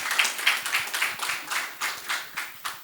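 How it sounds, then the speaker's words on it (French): Audience clapping at a televised French panel debate, a steady run of bright, fairly close hand claps with a regular pulsing rhythm and no talking. "Sous vos applaudissements"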